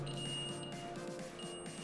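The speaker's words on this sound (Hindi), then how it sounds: "देख सकते हैं गाइस अभी बजर का साउंड आ रहा है" A multimeter's continuity buzzer sounds with its probes shorted together, giving a steady, close electronic tone that holds throughout with no talking.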